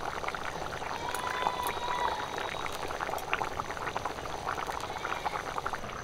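Fish curry broth bubbles at a rolling boil in a pan, a continuous soft seething with small pops and crackles close by, steady throughout with no talking.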